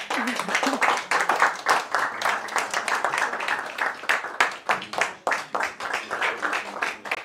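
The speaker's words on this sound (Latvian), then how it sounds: "Paldies, Sarmīte, vēl bišķiet aplausus" Audience at a Latgalian prose reading event clapping warmly after a reader finishes, a close, irregular patter of many hands over several seconds, with a voice speaking over the applause.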